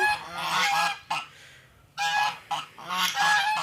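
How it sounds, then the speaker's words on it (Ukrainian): A young turkey hen calls repeatedly in loud, close bursts, with short pauses between the cries. "Всі індики пішли гуляти, а індичка ось молоденька кричить"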